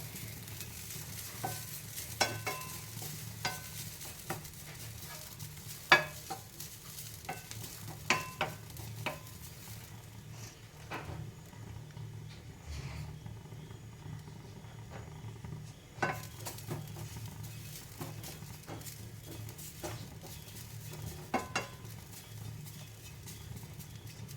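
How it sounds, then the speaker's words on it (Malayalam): Grated coconut dry-roasts in a pan for a healthy laddu, a quiet dry rustle with irregular scrapes and taps of the spoon stirring, faint and close with a low hum underneath. "തേങ്ങ നന്നായിട്ട് നന്നായിട്ടൊന്നും വറക്കണ്ട ചെറുതായിട്ടൊന്ന് കളർ മാറുന്ന ആ സ്റ്റേജിൽ"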